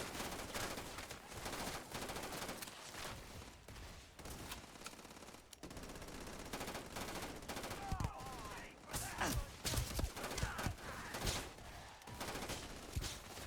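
Rapid bursts of automatic and single-shot gunfire from a firefight in the Starfield video game with the Gate to Stars mod crackle through a fast, dense exchange, with a voice talking faintly underneath.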